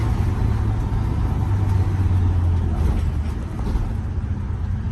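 A bus nicknamed The General cruises through a residential neighborhood, its engine a steady low drone with a sustained hum and continuous road noise, fairly close and without any talk.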